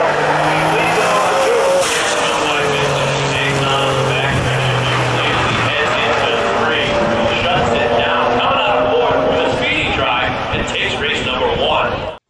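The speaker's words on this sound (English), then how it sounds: "The 3000 GT VR4 also does very well at spectator drags." A Mitsubishi 3000GT VR-4 at a spectator drag race: loud, continuous engine roar with shifting tones and bursts of tire squeal, close and steady throughout, with a voice mixed in underneath.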